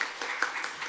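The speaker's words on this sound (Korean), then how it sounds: "박수로 모시겠습니다." Applause at a school human rights forum welcomes a parent speaker to the podium, a brief burst of moderate indoor clapping.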